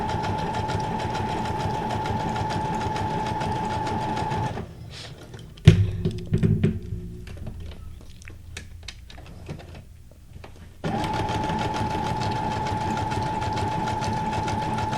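Sewing machine running a number 50 stitch, a steady close-up mechanical whir with rapid rhythmic stitching that runs for several seconds, stops briefly midway with a few clicks and handling knocks, then resumes at the same pace.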